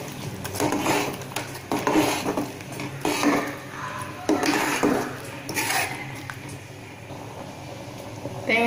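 Thick ground coconut paste going into a simmering pot of potato kurma, with scraping spoon and pot clatters in several close bursts over a steady cooking background.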